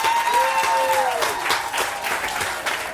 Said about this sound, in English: Give them a clap. Give them a clap.